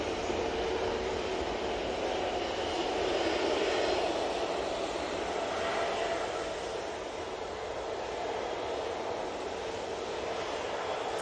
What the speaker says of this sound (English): That Ryanair 737-800 is off to Fate Paris.